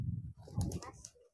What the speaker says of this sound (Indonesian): ini juga ada merpati saya yang lagi dijemur tuh